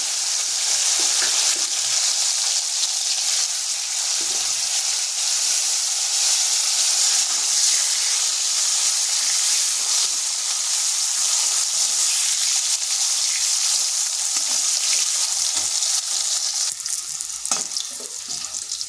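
Salted, squeezed bitter gourd frying in a pan while being stirred, a loud continuous crackling sizzle with steamy hiss throughout and occasional scraping of the spatula, no voices.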